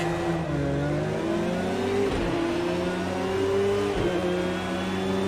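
A Porsche race car engine at Circuit of the Americas revs hard and climbs steadily, a loud continuous roar with a couple of gear shifts, heard close up from inside.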